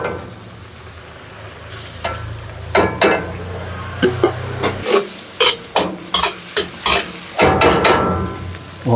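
Fried rice with mixed vegetables and mixed seafood being stir-fried: a loud, close run of quick spatula scrapes and clanks in rhythmic bursts over a steady sizzle.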